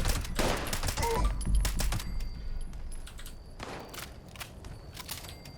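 Rapid bursts of combat rifle gunfire in the video game Fallout 76, an instigating combat rifle, firing in loud clustered volleys with sharp repeated cracks over the first half, then scattered further shots.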